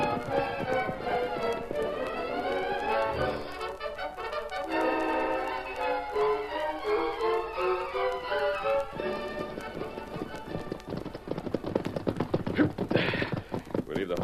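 Horses' hooves clip-clop steadily over rocky ground in a western drama, a close rhythmic tapping that continues under music and grows busier toward the end.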